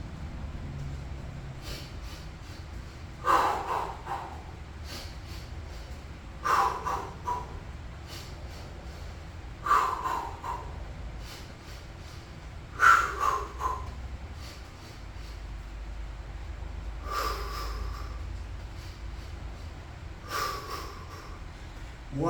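Heavy breathing during a cardio session in a home garage workout, with loud, close, forceful breaths coming in a steady rhythm about every three seconds, almost no talk.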